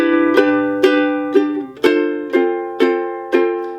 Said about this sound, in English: So let's put together the G6th to the F 6th chords.